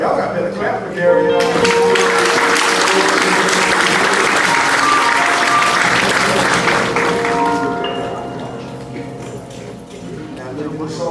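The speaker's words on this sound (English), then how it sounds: "Y'all got better clap for Gary." A church congregation bursts into sustained applause that holds steady for several seconds, then gradually thins out as a voice begins speaking over the tail end.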